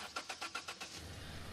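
A car engine cranks after a battery jump, about six rapid rhythmic starter pulses before it catches into a low idle, faint and somewhat distant, no talking.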